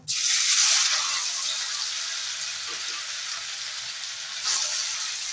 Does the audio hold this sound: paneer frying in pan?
yes